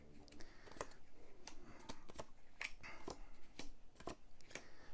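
Board game cards are shuffled close by in a quiet room, a series of quick, crisp riffling snaps coming in bursts about every half second.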